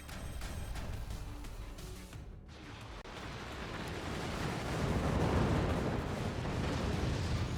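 Weapons firing in the artillery game Forts, a dense rumbling barrage of booms and blasts that swells louder toward the end, continuous and heavy with no voices over it.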